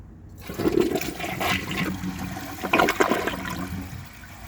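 A 2009 Gerber Avalanche 1.28-gallon toilet flushes with a loud rushing swirl of water, then the tank refills quickly with a steady hiss and trickle, heard up close.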